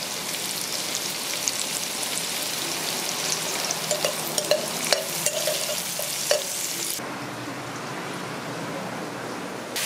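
Chunky tempering fries loudly in a pot, a steady dense crackling sizzle close by with scattered sharp pops, which drops to a softer hiss near the end, with no voices.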